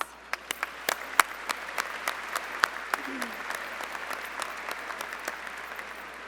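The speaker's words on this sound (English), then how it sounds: "Let's give them a round of applause." Sparse, scattered claps ring out in a large room at a university commencement ceremony, a few sharp individual hands over a soft crowd murmur and quiet voices.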